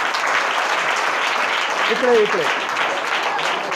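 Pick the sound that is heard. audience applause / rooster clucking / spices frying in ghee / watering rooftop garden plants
audience applause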